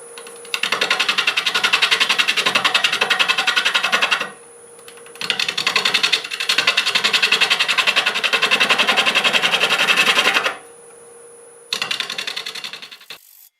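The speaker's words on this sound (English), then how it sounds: "I'm going to start with a 1/2 inch bowl gouge, and we'll just start cutting here" A half-inch bowl gouge cuts elm wood on a lathe spinning at about 670 RPM, giving a loud, steady rattling scrape in three long bursts separated by short pauses, with no talking.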